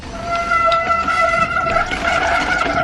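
A bicycle disc brake rotor squeals under hard braking on a downhill ride after a switch to a Revolt bike, giving a loud, steady, tonal honk with several sustained pitches that wavers slightly, alone with no voices.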